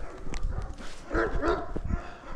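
A happy dog barks and yips close by, a few short bursts over a couple of seconds with some background noise.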